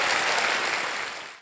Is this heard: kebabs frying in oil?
no